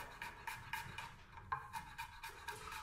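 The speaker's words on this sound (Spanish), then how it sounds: "vamos a cortar el ajito también lo más finito que se pueda" A knife chops garlic finely on a board in a home kitchen, giving quick, regular, crisp taps of fairly even strength, close and clear with no voices.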